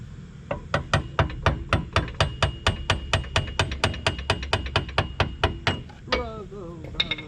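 Steady, evenly spaced hammer blows strike metal about three times a second, loud and close, followed by a brief voice at the end.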